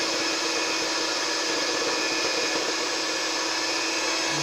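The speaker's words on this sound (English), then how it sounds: "I'm going to take my mixer and I'm going to just go ahead." An electric mixer whips egg whites for banana pudding meringue, a continuous loud whirring hum holding steady throughout with no talk.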